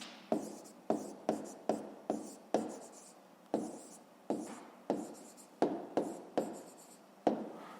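A pen writes down a maths answer on paper, a steady series of about a dozen short scratchy strokes, each starting with a tap and trailing off, close and quiet with no talk.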